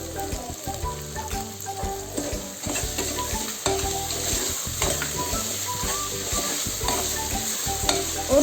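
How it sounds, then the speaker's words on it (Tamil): Garam masala and salt being stirred into a hot frying pan for sweet corn pulao, a dense continuous sizzle under repeated scraping and clattering of a spoon, close and fairly loud, with no talking. "ஒரு நிமிஷத்துக்கு மிக்ஸ் பண்ணுங்க போதும்"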